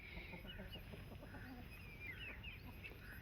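A hen clucks softly in short repeated calls over a steady background hum, with other birds chirping faintly.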